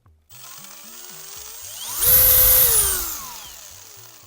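A cordless screwdriver drill whirs up, runs at a higher pitch for about a second, then winds back down, speed following trigger pressure, close and fairly loud.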